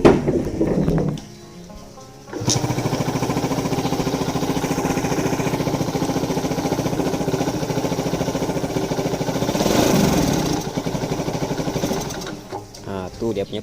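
A small motorcycle with a fault that makes it stall when the throttle is twisted, starting up after a brief crank and running with a steady, rattling idle close by, the note rising briefly before dropping away near the end.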